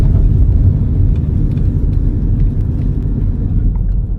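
A pedal-powered fit car, which uses regenerated energy for its accelerator, rolls off after being put in gear, giving a steady, loud, close rumbling drone with no talk.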